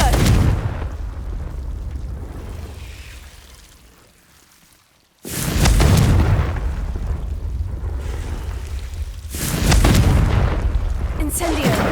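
Fiery Confringo blast spells from Hogwarts Legacy go off in loud roaring bursts, with a sustained whoosh that fades, then a sharp new explosion and a third burst later, alongside spoken spell incantations.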